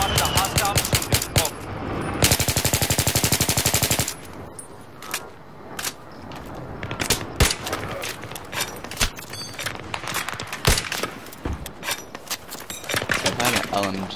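Light machine gun fire in the Battlefield 3 video game: loud, rapid sustained bursts of automatic shots, then scattered single shots and shorter volleys with battle noise, and a voice talking over the action.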